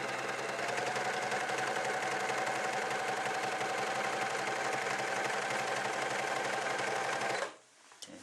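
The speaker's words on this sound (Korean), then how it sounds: "노루발 내리시고 쭉 박아 보겠습니다." A Merrylock overlock sewing machine stitches stretch fabric in one continuous, fast, even whir for about seven seconds, then stops abruptly, leaving quiet room tone with a small click.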